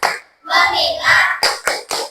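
Children in an elementary school classroom clap hands in short bursts, a sustained stretch of clapping followed by three sharp, evenly spaced claps, close and fairly loud.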